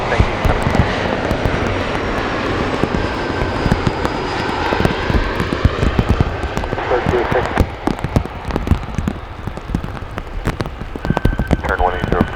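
An airliner on approach to runway 9 Left at Chicago O'Hare in wet, rainy weather, its engine roar steady and fairly loud throughout, with radio voices heard in the background.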